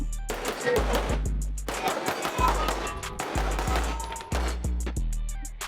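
Rapid pistol shots from Taran Tactical guns at an outdoor shooting range, a fast string of sharp cracks with short pauses between bursts.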